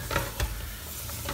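Soft scraping strokes of a spoon stirring flour cooking in a pan, with a faint sizzle underneath, a couple of stronger strokes near the start.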